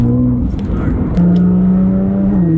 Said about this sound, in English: nice McLaren rolling in.